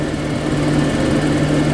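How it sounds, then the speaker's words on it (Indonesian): A small engine idles after its oil was swapped for cooking oil, giving a loud, close, steady hum with a firm low drone and an even mechanical buzz and no change in speed. "Untuk idle dan suara mesin"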